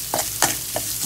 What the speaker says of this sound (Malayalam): നല്ലോണം വറുക്കുക.